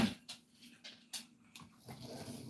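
A dog whimpers in a kitchen while eggs are cooked, giving several short, soft whines and yips spaced apart, close and fairly quiet, followed by faint panting and snuffling.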